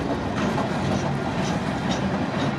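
A CPKC freight train rolls past with a distributed power locomotive in the consist, its continuous rumble and rhythmic clickety-clack of wheels on rail joints sounding close and steady.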